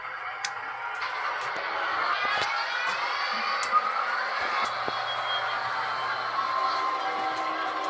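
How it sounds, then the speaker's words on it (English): HO scale BNSF model trains whir and hum along the layout track, a steady faint mechanical drone with occasional small clicks and ticks. "we'll get some trains running on our throttle here"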